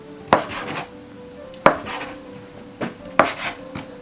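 A knife chops down through layered samsa pastry dough on a board four times at an uneven pace, each sharp thunk followed by a brief scrape, close and clear.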